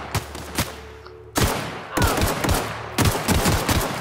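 Gunfire in The Outer Worlds, loud sharp shots in several clustered volleys with brief pauses between them, close and punchy over a low background hum.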